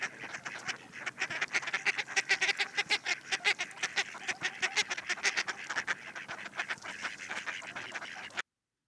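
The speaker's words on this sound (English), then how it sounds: "The mallard is known by the binomial name Anas platyrhynchos." Mallard ducks (Anas platyrhynchos) quacking in a rapid run of loud, close calls, many in quick succession, alone without talk, ending abruptly.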